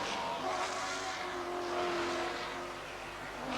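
Touring race cars, a Holden Commodore and a Volvo, race through a chicane at Hockenheim, their engines a distant, steady roar that swells and fades slightly without any talk.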